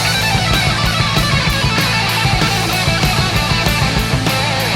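A distorted electric guitar plays a lead lick taken from a live version, loud and continuous with a dense, sustained tone throughout.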